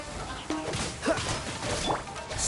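In Genshin Impact, a frozen enemy shatters with sharp icy crash and whack impacts, several hits in quick succession over busy game effects, close and fairly loud.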